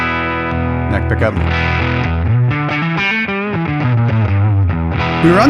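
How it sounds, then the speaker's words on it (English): A Gibson 335 played on its neck pickup through a Helix amp model without added sweeteners, thick, distorted and boomy chords with a bass-heavy, muddy tone, ringing continuously up close. "We were on that neck pickup without all the little sweeteners. Listen how it's kind of tubby and muddy and out of control."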